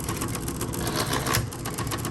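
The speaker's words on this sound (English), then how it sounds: "some electric typewriters are noisier than others, but they are noisy." A 1960s Spa Blue Coronet electric typewriter just switched on, its motor running with a steady, fairly loud mechanical hum and rattle, close by and alone without speech.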